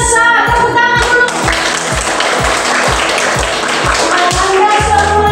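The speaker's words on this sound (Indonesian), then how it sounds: "Tepuk tangan dulu" Classroom applause from pupils during a lesson on Pancasila values: a loud burst of hand clapping with rhythmic, evenly spaced claps through the whole stretch and no talk over it.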